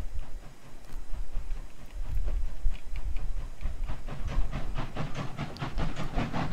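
Steam hiss from a steam locomotive in the Trainz train simulator while its water is topped up, a steady broadband rush with low rumble and faint whistle-like tones, moderately loud and without talk.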